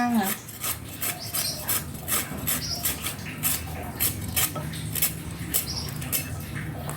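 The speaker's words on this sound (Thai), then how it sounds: "สับกล้วยใส่ลงไปค่ะ" Steady rapid knife chopping of banana on a board for Thai pounded banana salad with young tamarind, a busy rasping patter of close blade strikes with no talk.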